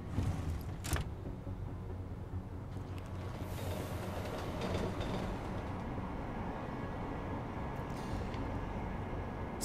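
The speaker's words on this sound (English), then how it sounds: "So let's go on to the actual train" A train in the video game Deus Ex Mankind Divided, a steady low rumble of rolling carriages with occasional clicks and brief hissing bursts, continuous at moderate level.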